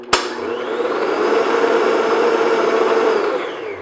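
An electric mixer beats blackberry cream cheese coffee cake batter in a bowl, a sharp click followed by a steady, fairly loud motor whir lasting about three seconds before cutting off, with no talking.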